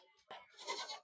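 Goats at a goat and sheep market in Talegaon Dhamdhere bleat in a short, wavering call, a brief cry first and then a longer quavering bleat, faint and fairly close.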